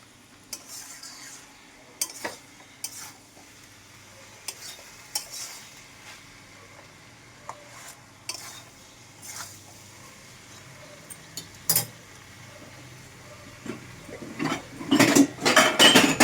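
A spoon scrapes and clanks against a pot of dried shrimp and mixed vegetable curry over faint sizzling, giving scattered metallic knocks that build into a busier clatter as the pot comes off the stove.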